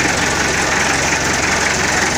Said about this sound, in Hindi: ये पूरा इंजन लगा हुआ है।